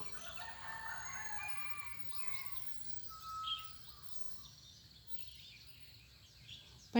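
A rooster crows at a distance over low background noise, faint and partly buried in a rumbling ambience.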